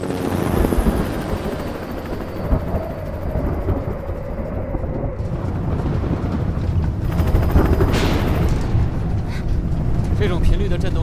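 A helicopter flies in an adventure action film scene, its heavy rotor and engine drone filling the whole stretch loudly and steadily, with voices faintly underneath.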